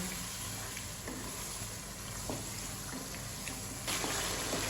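Potatoes and peas sizzle steadily in a hot pan for aloo matar, with a few stirring clicks, until water is poured in near the end and brings a sudden louder burst of hissing.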